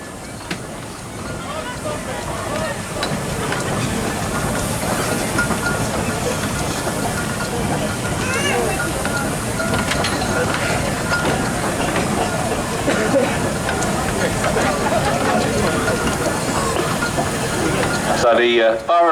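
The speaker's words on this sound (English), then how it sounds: "So the Burrell engine, Mr. Plum's Burrell, if you look at that as it comes past, as it comes out the arena" A Burrell steam traction engine rolls out of a show arena, giving a steady mechanical rumble and hiss that stays loud and continuous throughout, with crowd and voices mixed in around it.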